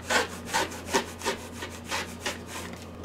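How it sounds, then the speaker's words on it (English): A rotary cutter with a 60 mm blade slices through thick fabric layers for a machine-embroidered phone case. About six quick, rhythmic rasping strokes sound close and moderately loud, with no voices. "I'm using my 60 millimeter blade on my rotary cutter. It's a little bit easier. It goes through that thickness a lot better than the 45."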